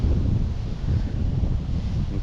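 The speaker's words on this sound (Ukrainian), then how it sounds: "Вітер взагалі дуже сильний" Strong wind buffets the microphone in a steady, low, rumbling roar with no voices.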